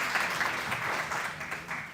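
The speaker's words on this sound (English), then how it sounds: "give a round of applause to all the speakers" Audience applause at an academic symposium on Islamic psychology, fairly faint and steady, a dense wash of many hands clapping for two seconds with no talk over it.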